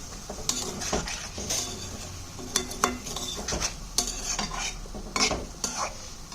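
A spoon scrapes and clinks against a frying pan while soybean chunks are stirred with spices for korma, with irregular metallic taps over a soft sizzle and no talking.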